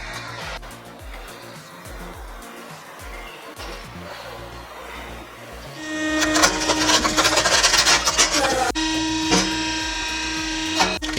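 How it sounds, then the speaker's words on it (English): A Holzamat PW wood processor cutting and splitting firewood: quiet knocking and mechanical clatter at first, then a loud, sustained grinding and whirring of machinery with sharp cracks and bursts over a running engine. "The PW Wood Processor makes it possible with its seamless cutting and splitting system"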